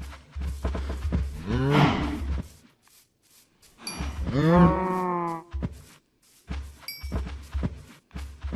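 Cow in a video game moos twice in long, drawn-out calls, loud and near, with thumps of play between them.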